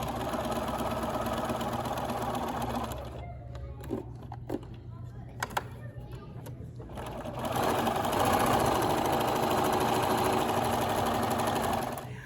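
Sewing machine stitching a quarter-inch seam around a fabric needle book, a steady close mechanical whir that pauses midway with a few clicks, then resumes running continuously.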